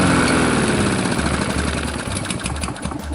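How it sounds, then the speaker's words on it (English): A walk-behind lawn mower engine runs steadily and loudly up close, a continuous buzzing drone that keeps going without a break while it burns off the last of the gas in the tank. "I'm just going to start it up again and let it run until it's dry."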